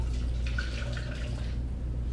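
Magnetized water pours into a steel cup in a brief, soft splashing trickle that fades out within a couple of seconds over a low background hum.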